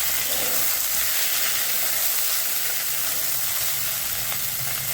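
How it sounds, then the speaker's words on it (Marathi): Coriander leaves roasting in a pan alongside ginger and garlic, a continuous close hiss and sizzle of frying with faint occasional stirring, steady throughout and without voices. "आणि आता त्याच्यामध्ये कोथिंबीरही चांगली भाजून घ्यायची"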